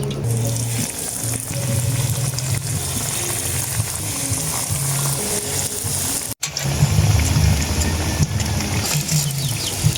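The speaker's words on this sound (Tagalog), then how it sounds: "magpapainit na nga tayo mga idol ng kawali para iprito na nga natin ito" Pumpkin and corned beef nuggets fry in a hot pan with a loud, continuous sizzle and crackle. The sizzle cuts out for a moment, then comes back a little stronger.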